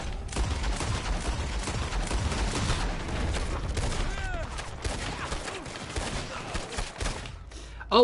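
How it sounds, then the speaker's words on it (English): Rapid bursts of semi-automatic shotgun fire in a Red Dead Online gunfight, loud and sustained with dense overlapping blasts, and faint voices mixed in. "that semi-auto shotgun is fast"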